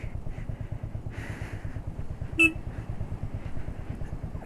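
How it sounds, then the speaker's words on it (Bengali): A motorcycle rides on a sandy dirt road on the way to Muktinath, Nepal, its rear wheel slipping; the engine thrums in a low, steady pulse, broken by a brief sharp tonal blip midway. "স্লিপ কাটছে বাইক, টানছে পেছন চাকা টানছে, স্লিপ করছে।"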